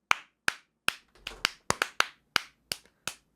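Sharp hand claps ring out alone in a rough steady beat, about ten close, loud slaps with a brief quicker flurry in the middle.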